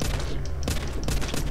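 Gunshots from a zombie survival video game, a few loud close bursts spaced irregularly across a short stretch, each with a sharp attack and brief decay.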